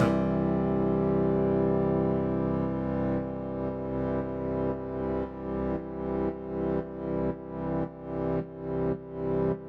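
A sustained, distorted synth tone that starts steady, then pumps rhythmically under a compressor, swelling and ducking in regular beats toward the end.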